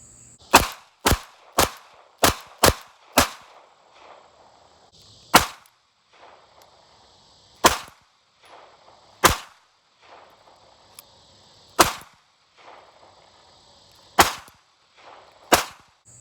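Around a dozen sharp gunshots from a brand-new Taurus Spectrum .380 pistol, a quick string of five or six followed by evenly spaced single shots, loud and close with short tails and no talking.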